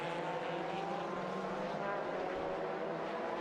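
A GT race car driven by the race leader roars past at the 2005 FIA GT Championship round in Bahrain, a loud steady engine drone with broad noise that holds for a few seconds.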